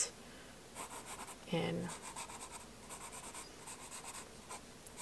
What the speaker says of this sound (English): I'm just again, very roughly drawing this